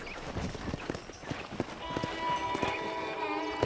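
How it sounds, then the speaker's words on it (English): Horse hooves clip-clop in Red Dead Redemption at a brisk, uneven pace, close and fairly loud, with faint voice-like tones in the background. "I picked out a fine horse for you."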